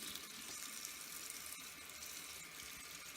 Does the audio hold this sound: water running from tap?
yes